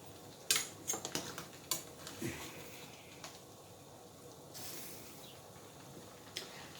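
Utensil scraping and clinking against a pot while stirring cooked-down collard greens with smoked turkey tails, a few sharp taps early on, then a soft wet stirring hiss, close and fairly quiet.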